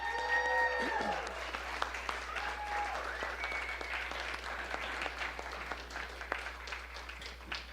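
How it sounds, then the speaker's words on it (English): Audience applause fills a music cafe, dense steady clapping from a moderate-size crowd that carries through the whole stretch, with faint voice fragments at the start. "So let's just give a round of applause for all those people."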